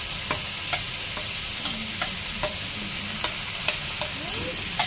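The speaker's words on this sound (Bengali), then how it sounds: "তো এবারে আলু পেঁয়াজ আর কাঁচা লঙ্কাটাকে ভালো করে ভেজে নিতে হবে।" Potato, onion and green chili fry in a pan with a constant sizzle, punctuated by regular light clicks and scrapes of a spatula stirring, close and clear without speech.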